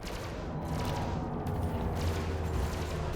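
A ship's cannon fires in Elite: Dangerous, with low, muffled blasts and rumbling impacts rolling beneath a dull, steady background of spacecraft combat noise.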